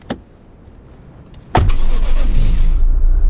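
A car engine cranks and catches with a sudden loud start after a quiet moment with a couple of clicks, then settles into a steady running rumble.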